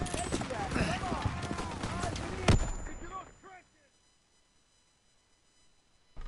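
Gunfire and battle noise from the Call of Duty WWII campaign, dense clattering shots and impacts with a sharp loud blast midway, then fading to near silence before a final burst; shouted voices mix in.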